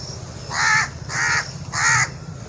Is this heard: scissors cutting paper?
no